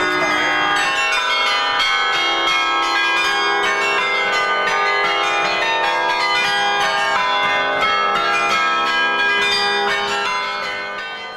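Many tuned bells of a 42-bell tower carillon in central Amsterdam, played with mechanical keys and pulleys, ring together in a dense, sustained cascade of overlapping tones, loud and resonant, fading slightly at the end.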